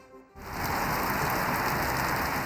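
Heavy storm rain pours down across a city in Balochistan, a dense, loud, steady roar of downpour that surges in after a brief quieter moment and holds without break.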